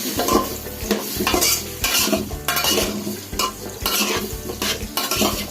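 A spoon scrapes in quick, regular strokes as turmeric and salt are stirred into fish for a koi fish curry with coconut milk, with a soft sizzle beneath and no talking.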